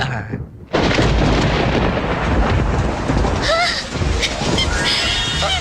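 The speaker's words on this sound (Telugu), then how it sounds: "అయ్యో, వర్షం తడిచిపోతారండి." Heavy rain bursts in abruptly and pours as a loud, dense, steady roar, with rumbling thunder mixed in and faint voices partly buried beneath the downpour.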